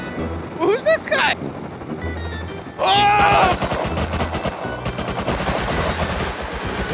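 Minigun fire from an attack helicopter in the game Rust comes in loud, rapid bursts with the rotor audible, the fire turning into a sustained, dense stream late in the clip.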